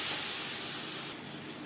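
Ginger and green chili hit hot oil with five-spice seeds (panch phoron), giving a steady bright frying hiss close by that drops a little in loudness partway through.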